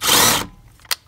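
A power drill whines steadily as it turns an extractor bit on a broken hardened steel bolt, loud and close for under half a second, then cuts off, followed by a brief sharp squeal.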